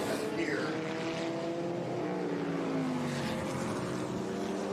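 Vintage race cars, a Lotus, a McLaren and a Cooper, race at the Monterey Reunion at Laguna Seca. Several engines drone and whine together, their pitch gliding as they pass, loud and continuous with no talking.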